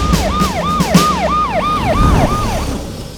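Ambulance siren wailing in a rapid rising-and-falling cycle, loud and close, with some lower rumble and brief knocks underneath early on.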